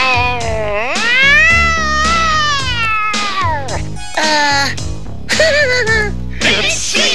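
A cartoon cat meows and caterwauls loudly in long, wavering, sliding wails, several drawn-out cries in a row with brief gaps between them.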